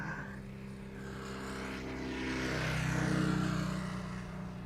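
An airliner takes off from Amsterdam's Polderbaan runway, a steady loud engine roar with low droning tones that swells toward the middle and holds without any voices.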